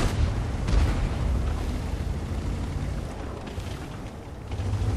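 Artillery fire rumbles in World of Tanks around a CS-44 medium tank, with a heavy low boom near the start fading into a sustained, dense roar of battle noise that continues throughout.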